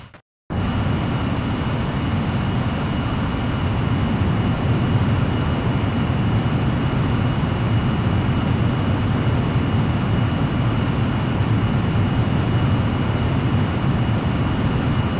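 A jet aircraft in the video game Ace Combat X roars steadily and loudly through its takeoff run, a continuous broadband engine rush with a high whine, alone without talk.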